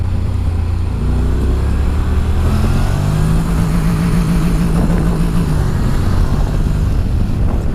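Honda NM4 Vultus motorcycle engine revving while stuck on an upshift in manual mode, a loud continuous throaty drone whose pitch climbs and holds high, heard close on a daytime ride with wind noise and no talking.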